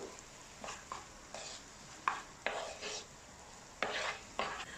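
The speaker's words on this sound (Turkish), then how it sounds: "Soğan ve sarımsağı güzel bir şekilde kavuruyorum." Onion and garlic sautéing in oil for a leek dish, a soft sizzle broken by occasional stirring scrapes of a utensil against the pan, fairly quiet.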